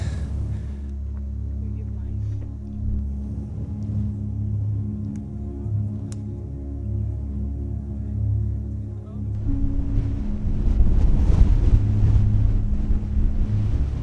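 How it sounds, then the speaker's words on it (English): Strong wind roars across the microphone in a steady low rumble, swelling louder and gustier toward the end, out in the remote countryside of Sri Lanka. "So windy"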